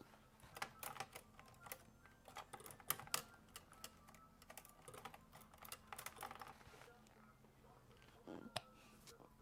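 Someone typing on a computer keyboard nearby, irregular bursts of quick key clicks and taps with brief pauses, faint overall with light talk in the background.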